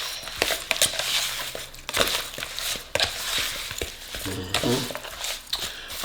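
Garlic, herbs and salt are mixed together for chicken wing seasoning, giving a close, gritty rustling and crunching with irregular scrapes against a bowl.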